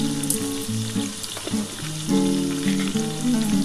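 Spices with salt, milk and a little sugar fry in a pan for an egg poach curry, a steady close sizzle with occasional stirring scrapes, under a backdrop of music.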